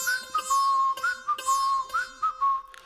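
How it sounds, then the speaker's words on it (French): A boy whistles a cheerful, wavering tune on his walk home, repeating short rising-and-falling phrases in a clear, steady whistle with brief pauses between them; no one speaks. "Jay était si enchanté de son achat qu'il siffla durant tout le trajet du retour."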